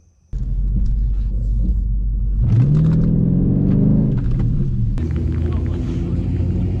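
2019 Dodge Challenger SRT8 under bracket drag racing testing, a deep steady engine rumble at close range that rises into a rev with a climbing whine midway, then settles back to a loud idle-like drone.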